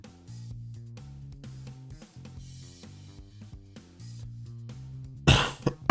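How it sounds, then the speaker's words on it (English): A man coughs and clears his throat near the microphone in one sudden, loud burst near the end, after a stretch of background game music with short notes. "I still have a cough"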